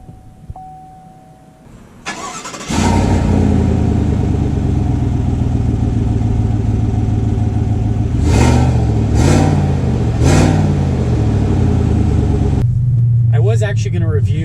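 A 2019 Chevy Silverado 1500 LT with a 5.3-liter V8 and 8-speed automatic starts after a quiet moment, then drones loudly and steadily as it drives, with a few brief revs partway through.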